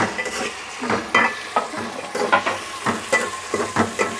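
Ginger garlic paste and tomatoes frying in a pot for chicken and potato curry, a close sizzle broken by repeated scraping stirs of a spoon at an uneven rhythm, with no talking.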